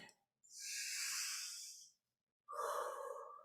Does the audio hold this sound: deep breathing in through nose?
yes